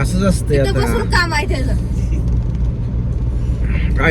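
A car cruises along the Pune–Solapur highway, its steady low engine and road rumble filling the cabin while people talk inside throughout.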